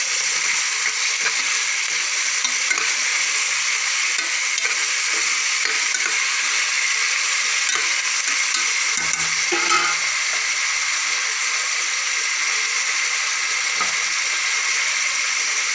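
Tomatoes fry in a pan for mushroom rice, giving a steady broadband hiss of sizzling oil with occasional stirring scrapes, continuous and fairly close throughout.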